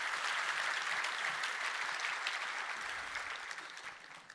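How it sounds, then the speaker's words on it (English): Sustained audience applause at a HashiConf 2017 opening keynote, a dense steady wash of many hands clapping that holds loud and even before tapering slightly at the end. "Can we give one more quick round of applause for Mohit for sharing Jet.com story?"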